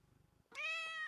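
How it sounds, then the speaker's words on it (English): A single drawn-out cat meow, loud and close, rising then holding steady for about half a second after a quiet start. "This is my cat, Rio. Yeah, he's saying hi."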